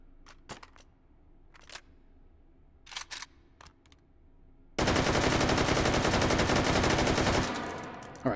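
AK-12 rifle in a VR shooting game fired fully automatic, a few scattered clicks and handling knocks, then a loud, sustained burst of rapid gunfire lasting about three seconds.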